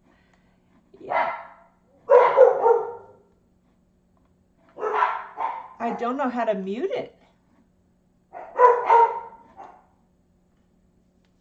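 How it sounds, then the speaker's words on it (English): A dog barks in a few short bursts with pauses between them, and a person speaks briefly over the quiet background. "you just have to hear the barking"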